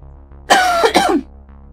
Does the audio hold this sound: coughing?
yes